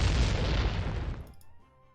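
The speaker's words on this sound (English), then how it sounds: "in the distance, you hear an explosion." A distant explosion in a fantasy tabletop roleplaying scene, a single deep broadband boom that rolls loudly for about a second before fading into a quiet low rumble.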